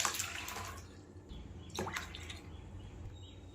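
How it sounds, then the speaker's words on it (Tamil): Lentils being rinsed and left to soak sound like soft, close splashing and dribbling water, with a brief brighter slosh midway, all fairly quiet and with no one talking. "இதை இப்போ நல்லா வாஷ் பண்ணிட்டு ஊற வைக்கிறேன்."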